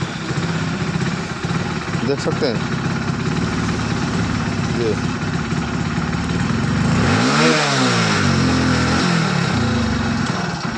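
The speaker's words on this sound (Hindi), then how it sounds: "अभी मैं किक मारता हूँ, बाइक अब स्टार्ट होगी, लेकिन जब इसका एक्सीलेटर को लेता हूँ देखेंगे" A Hero HF Deluxe BS6 motorcycle with a missing and pickup problem is kick-started, then idles steadily before a throttle blip rises and falls, up close, with someone talking over the engine.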